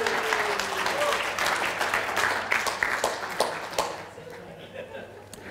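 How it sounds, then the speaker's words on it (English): An audience at a church service or sermon event breaks into steady, sustained applause, a dense wash of clapping that fades gradually toward the end. "Give him a round of applause."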